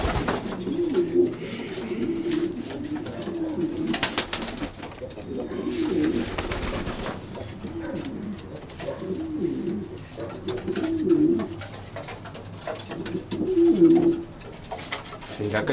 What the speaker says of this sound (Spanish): Pues ahí están las palomas.